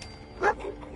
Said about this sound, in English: Hello, dog. Hey, boy. What are you doing out here all by yourself?